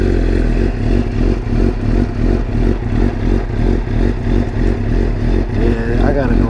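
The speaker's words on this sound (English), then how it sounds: "Give her a little cold start" A Suzuki GSX-R sport motorcycle idling on a cold start with an aftermarket exhaust, a loud, steady, pulsing engine chug close by, with someone speaking over it.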